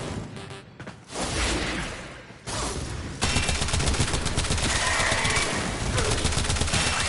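An Incarnon Furis secondary weapon fires nonstop in Warframe, a loud, dense stream of rapid automatic shots that dips briefly and then resumes at full intensity for the rest of the clip.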